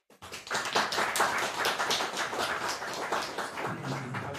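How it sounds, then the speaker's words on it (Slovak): An audience in a hall at Matica slovenská applauds for the writer Viktor Timura, a close burst of dense hand clapping that starts abruptly and keeps going steadily, without voices. "Takže Viktor Timura, poprosím potlesk."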